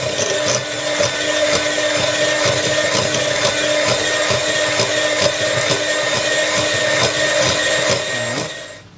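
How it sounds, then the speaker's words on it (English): Stork margarine and plain flour are whisked together in a bowl, giving a dense, continuous scraping and rattling of the whisk close up, steady for several seconds before stopping, with no voices. "Whisk it all in."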